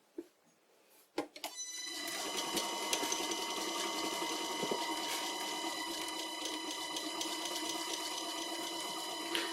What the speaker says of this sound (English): It's still pretty rattly, but at least it goes up to speed now.